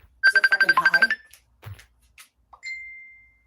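A phone ringtone sounds as a rapid burst of about ten bright, evenly spaced tones, then breaks into a few short blips and a final sustained tone. It is close and clear, with no talk over it.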